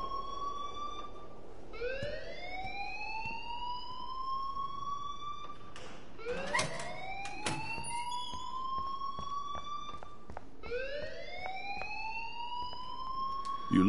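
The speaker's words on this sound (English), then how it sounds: "please turn off that alarm since that's your job" A school alarm sounds in the video game Life is Strange: repeated rising, wailing electronic tones that sweep upward and hold, returning several times in a loud cycle with no talk over them.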